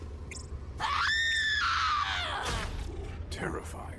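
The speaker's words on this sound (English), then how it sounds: "Could you do me a favor and scream into this cursed recorder?" The Banshee in Borderlands 3 lets out one long, loud, high wailing scream into a recorder, rising then trailing off over about a second, with faint game noises before and after.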